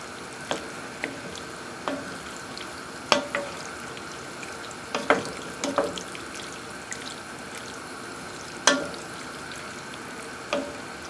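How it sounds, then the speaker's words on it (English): Beef broth splashes into a hot skillet of a home-cooked supper, a steady sizzle and bubbling with scattered clicks and clinks of a utensil stirring, moderately close with no voices. "I'm going to add in a little bit of beef broth just to kind of thin this out a little bit"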